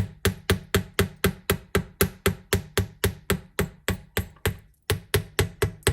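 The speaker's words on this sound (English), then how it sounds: "and now we're going to hammer" Steady, evenly spaced metallic taps of a small hammer lightly flattening jewelry ear wire on a bench block, about four strikes per second, close and crisp, with one brief pause.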